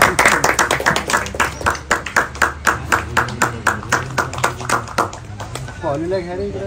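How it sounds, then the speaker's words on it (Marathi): Crowd applause at a village cricket tournament match in Kihim, a steady run of rhythmic clapping with many sharp claps, loud and close, with talk running over it and fading near the end. "जोरदार टाळ्या वाजून स्वागत करायचं त्यांचं सर्वांनी."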